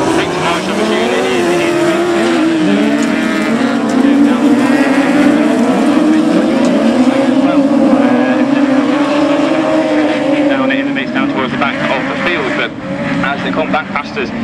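Race cars, among them the SS88, roar past a trackside spot at the Nige Thompson Memorial, Class 8 heat; a loud, sustained engine drone swells and fades as the machines pass, with a commentator talking over it throughout.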